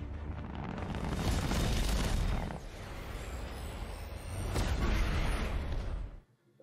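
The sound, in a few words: railgun firing in The Expanse TV episode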